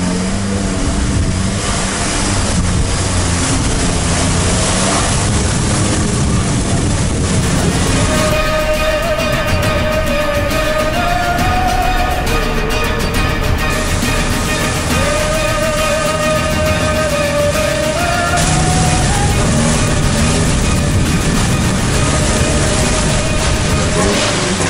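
A Lada Niva engine runs rough on three cylinders, a loud, continuous uneven drone with shifting revs and a whining tone, close up and without speech.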